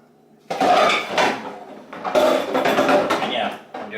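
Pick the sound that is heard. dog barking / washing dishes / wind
washing dishes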